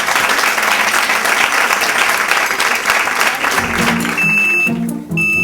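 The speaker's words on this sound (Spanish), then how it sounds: "Un aplauso, por favor." A room full of people applauds steadily for several seconds after a talk for a Spanish radio morning show, the clapping dense and loud before it fades under an electronic tone.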